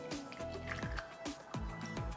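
Soy sauce is poured for a vegetable stir-fry sauce, making a series of wet drips and splashes with an uneven rhythm, close and moderately loud, with no voices.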